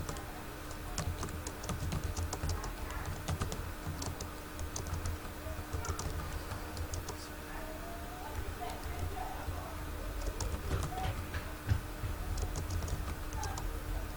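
Steady typing on a computer keyboard while notes are written in a Notepad-style program, a dense run of quick key clicks with occasional louder taps and a low background hum throughout.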